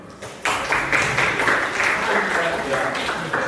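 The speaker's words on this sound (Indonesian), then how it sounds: "Tepuk tangan ke si Ramli." Classroom clapping for a student after a correct quiz answer, a sudden burst of dense hand claps that holds steady and fairly loud for about three seconds.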